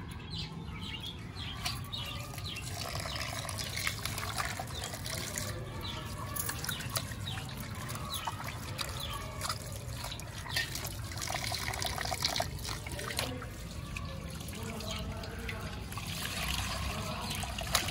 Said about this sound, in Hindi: तभी हम इसको खुले पानी में धो लेंगे